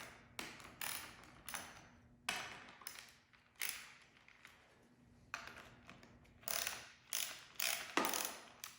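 A hand ratchet clicks in repeated bursts while loosening 10mm bolts on a Mazda Miata radiator fan shroud, close and crisp, with short pauses between runs of rapid pawl clicks.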